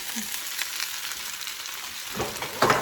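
Potatoes frying in a pan for a chicken and potatoes Dijon cream dish, a close, even hiss of sizzling fat with a few louder crackling spurts near the end and no talking.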